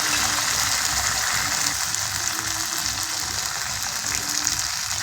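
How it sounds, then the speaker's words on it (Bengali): Onions and potatoes sizzle in a pan with ground dried red chili paste. The frying hiss is steady, close and loud, and it runs without a break and without talk. "পেঁয়াজ আর আলুটা ভালো করে ভেজে নিয়েছি"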